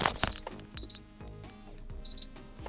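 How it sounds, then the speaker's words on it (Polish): An electronic alarm clock beeps in quick repeated pairs, close and clear, with short pauses between bursts. "właśnie dzwonił mój budzik, jeżeli było słychać"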